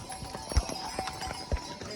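Donkey hooves clop on a steep mountain path on the way to Kedarnath, a series of uneven close hoof strikes with two heavier thuds, fairly faint against a soft outdoor background.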